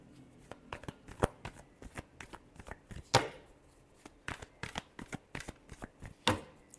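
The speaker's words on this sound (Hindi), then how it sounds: "Last shuffle." A tarot deck being shuffled by hand, a run of crisp card riffles and taps in an irregular rhythm, close and fairly quiet, with a few sharper slaps standing out.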